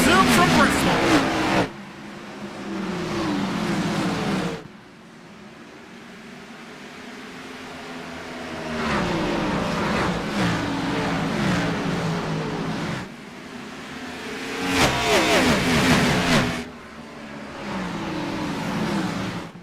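Race cars roar around the Bristol oval in the iRacing video game: engine drones rise and fall as packs pass, with repeated louder bursts, under steady commentary talk.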